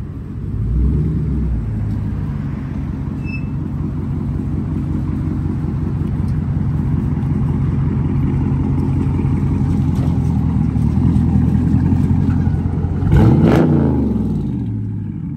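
A Dodge Scat Pack's engine with Dynomax Bullet exhaust rumbling steadily at close range, building gradually, then a brief sharp rev near the end before settling back.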